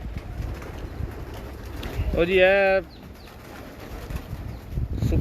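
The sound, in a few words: pigeons cooing on a rooftop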